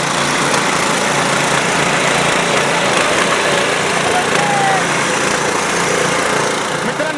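A small power weeder engine for paddy farming runs steadily and loudly throughout, a continuous buzzing drone with no pauses.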